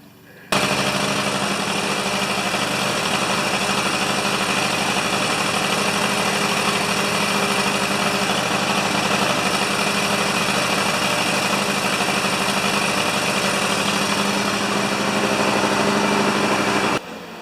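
A John Deere LX178 lawn tractor with a Mikuni carburetor idles close by, a steady, loud, rattly drone holding for about sixteen seconds before cutting off abruptly.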